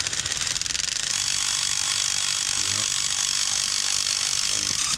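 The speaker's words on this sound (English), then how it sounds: "We gotta drill it. Drill my fucking engine out, bro." A continuous high-pitched grinding whir of a drill boring out a spark plug hole in a 2004 Ford Explorer 4.6L engine, steady and loud throughout, close up, with no talking.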